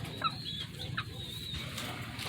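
A Texas-bred gamecock rooster gives soft, brief clucks and chirps, close but faint, over a steady low background hum.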